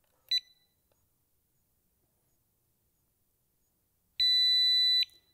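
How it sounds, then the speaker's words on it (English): A GE Choice Alert security control center, model 45129, gives a short electronic beep, then after a pause a steady, clear long beep lasting nearly a second, close and alone in a quiet room. "press and hold the Arm button at the same time until a long beep sounds"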